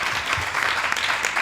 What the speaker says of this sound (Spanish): Damos la bienvenida con un aplauso a Lorenzo Silva